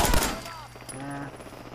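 Gunfire in the video game Fallout 4: a loud burst of shots right at the start, then fainter scattered cracks under a low background hum.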